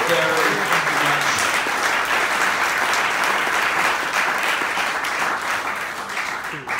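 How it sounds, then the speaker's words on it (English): A charity auction audience claps loudly and steadily after trips are sold, dense applause that fills the room and holds for nearly seven seconds before starting to thin at the end. "if you enjoy the sensation of slamming your hands together, aka clapping"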